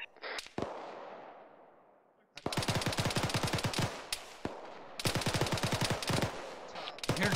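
Automatic weapon fire in the ArmA 3 military game crackles in several long rapid bursts, sharp and loud, with a distant rumbling shot at the start and brief gaps between volleys.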